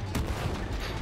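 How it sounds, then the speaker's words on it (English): Fireworks going off in the video game It Takes Two: a rapid cluster of crackling bursts and pops, loud and dense across the full second, with no talking. "I see a bunch of fireworks."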